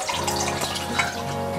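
Tap water runs steadily into an aquarium for cichlids as it fills, a continuous rushing pour with a faint tonal ring and no voices.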